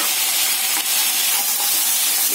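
Cut vegetables sautéing in hot oil for Tirunelveli sodhi kulambu, a loud continuous hiss and sizzle, steady throughout with no talking.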